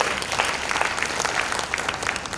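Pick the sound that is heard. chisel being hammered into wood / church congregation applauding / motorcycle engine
church congregation applauding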